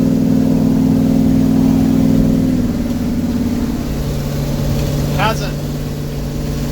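A 1971 Chevy C10 pickup labors up a sizable hill, its engine a steady, loud, mid-pitched drone that holds and then eases slightly, with a brief chirp near the end.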